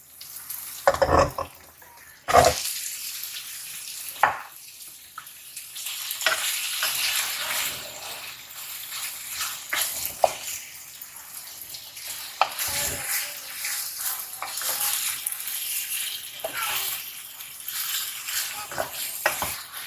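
Chicken tossed into a hot pan and stir-fried, sending up a continuous close sizzle broken by a few sharp clatters and scraping spoon strokes, with no one talking.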